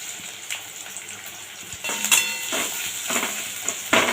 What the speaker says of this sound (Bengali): দেখো পেঁয়াজটা হালকা ভাজা হয়েছে